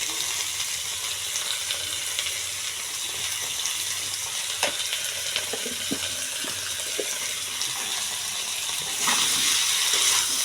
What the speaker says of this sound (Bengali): মশলাগুলোর সঙ্গে মাছগুলো একটু হালকা করে ভেজে নেব